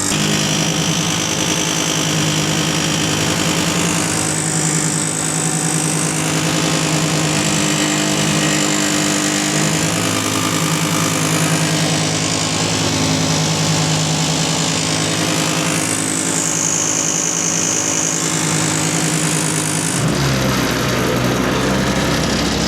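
An SDLRR200 articulated road roller runs with its vibration engaged, a loud continuous engine drone layered with a steady buzzing hum, close and unbroken, shifting to a rougher rumble in the last couple of seconds.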